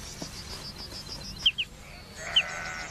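Sheep bleat faintly across an open meadow, with a few short calls over quiet outdoor ambience, sharp bird chirps and light wind.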